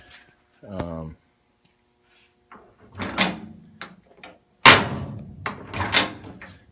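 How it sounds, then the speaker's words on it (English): Several doors of a restored 1972 Chevrolet C-10 pickup truck open and shut with metallic clunks and latches, spaced out over a few seconds, close by, with brief talk between them. "right now, doors open and close real nice."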